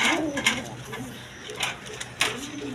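Pigeons of a quality running pair with hoods, offered for sale, coo in a few soft repeated bursts close by under background talk.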